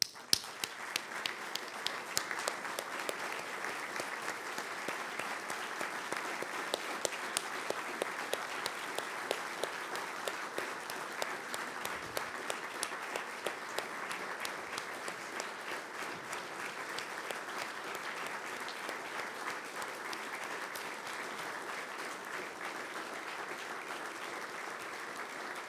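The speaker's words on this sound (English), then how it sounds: "I'm going to ask them to stand and receive your applause." Sustained audience applause at a journalism awards ceremony, dense steady clapping from a large crowd filling the room for the whole stretch without letting up.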